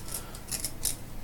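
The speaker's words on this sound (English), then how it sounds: "Get a pencil sharpener, and what I want to do is just sharpen that" A pencil sharpener scrapes as it sharpens the stem of a handmade fishing float, giving short dry rasping strokes in quick bursts, close and fairly quiet, with no voices.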